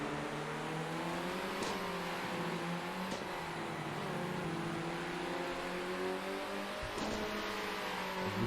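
A race car engine in a touring car racing video game holds a steady, loud drone for the full stretch, with pitch climbing and dropping through several gear shifts and no voices.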